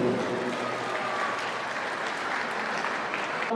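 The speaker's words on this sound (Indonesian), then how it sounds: "Tepuk tanganlah buat kita." Audience applause at a Batak cultural festival, a dense, even roar of clapping from a large crowd, steady throughout before cutting off.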